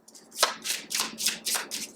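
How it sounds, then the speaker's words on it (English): Lenormand cards being shuffled by hand during a pick-a-card reading, giving six quick papery riffling bursts in a steady rhythm, close and moderately loud with no talk. "I don't know why I'm shuffling still."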